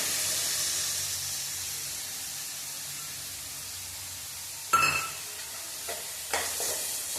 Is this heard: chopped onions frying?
yes